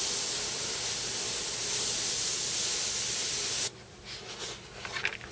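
Badger Sotar 20/20 airbrush spraying paint, a loud close steady hiss that cuts off abruptly near the end, followed by faint handling sounds.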